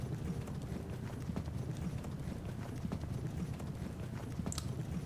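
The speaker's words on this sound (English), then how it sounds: "Ooh, horse." Horse hooves clip-clopping in the strategy video game Pike and Shot Campaigns, a steady stream of overlapping hoof clatter from cavalry, even and moderately loud throughout with no talk.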